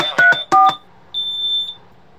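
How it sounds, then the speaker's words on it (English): Security alarm panel in panic mode (FBII StarFone, 1980s): a quick burst of several sharp electronic tones, then one sustained high-pitched beep, loud and close, with no talking. "the last thing you can do with this, of course, is a panic alarm"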